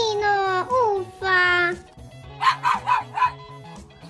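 Small cartoon dog yapping in a quick burst of four high barks in a toy playset scene, following harmonic voiced tones, with a steady rhythmic music beat underneath.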